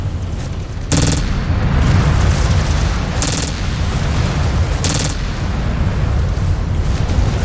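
Missile impacts and explosions in the MechWarrior 5 Clans video game produce a dense, continuous rumbling roar, punctuated by about three sharp bursts, loud and close with no talking.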